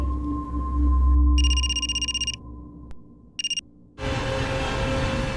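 An electronic phone ringtone warbles loudly, breaks off, chirps once more briefly, then gives way to a louder wash of room noise.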